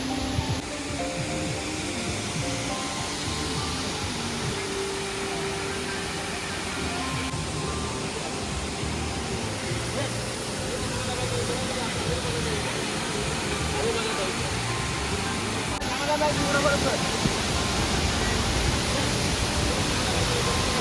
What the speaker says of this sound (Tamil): பொம்மர்னா வாட்டர் ஃபால்ஸ் வேற லெவல்.